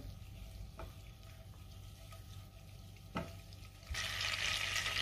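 Butter melting in oil in a pan while making pav bhaji gives a soft steady sizzle, with a few spoon scrapes and a louder, brighter burst of frying near the end; no one talks.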